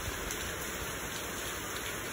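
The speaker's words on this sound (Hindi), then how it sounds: "बहुत जोर से बारिश दे रहा है।" Heavy rain pours down in a village setting, a dense, steady hiss that continues evenly throughout with no other sounds standing out.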